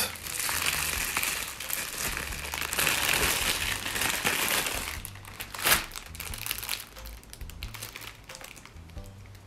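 A plastic packet from an advent calendar crinkles and crackles loudly up close as it is handled and torn open, with continuous rustling and a sharper crunch midway.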